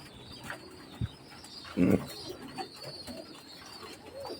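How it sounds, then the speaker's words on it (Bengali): A low coo from Omani-bred pigeons rises briefly around the middle, soft against steady background hiss and faint high chatter, with a dull knock just before. "ওর বাবা এবং মা হচ্ছে পিওর ওমানের কবুতর"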